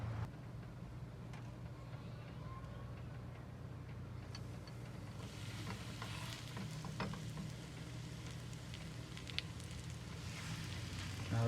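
Chicken katsu fries in hot oil in a pan with a soft, steady sizzle and crackle that grows denser after the first few seconds and continues without talk.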